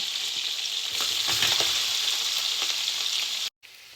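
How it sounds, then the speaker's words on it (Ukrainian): Onion and carrot frying in a pan make a dense, steady sizzle with soft crackles and stirring, close and moderately loud, ending in a short gap. "Додаю цибулю і моркву."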